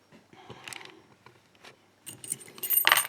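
Keys jangle and clink close by during the gutting of a Guard Security lock core, in several short bursts of metallic rattling, the loudest near the end, with quiet handling noises between and no talk.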